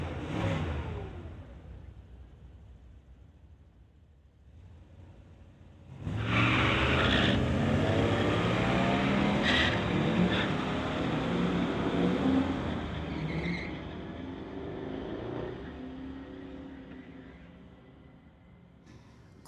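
A 1962 Chevrolet Nova and a 1974 Corvette drag race at a street-legal event. A distant engine hum comes first, then a loud roar of both cars launching and accelerating, fading gradually as they pull away.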